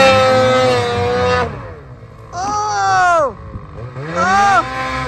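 A snowmobile engine revs hard under throttle in short bursts, a loud, close whine rising and falling in pitch with brief drops between, and voices speak over it.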